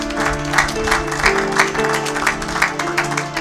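A church congregation claps together, steady rhythmic applause pulsing roughly twice a second over sustained musical tones in the background.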